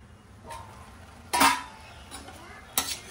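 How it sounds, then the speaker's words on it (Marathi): A spoon scrapes and clatters against a pan while carrot halwa made with ghee, sugar and dry fruits is stirred, giving a few sharp, close metallic strokes over a soft background. "मध्ये मध्ये मिक्स करून घेणार आहे"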